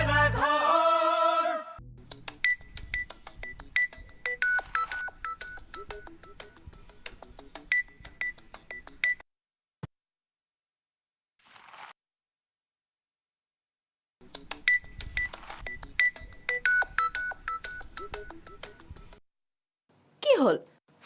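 An electronic telephone ringtone plays indoors in a home, a bright repeating warble that sounds in two long bursts separated by a silent pause, with a few short voice-like sounds around it.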